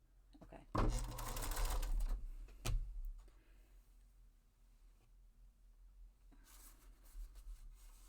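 A sewing machine stitches through layered fabric in a burst of close, steady whirring for about two seconds, followed by a brief second run and quieter handling noise.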